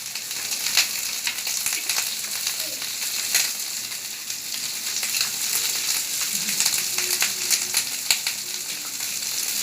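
Chicken pieces for dragon chicken frying in hot oil, a steady close crackling sizzle with bursts of spitting, continuous and fairly loud throughout with no talking.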